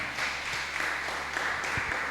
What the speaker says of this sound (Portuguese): Que as palmas possam glorificar ao nosso Deus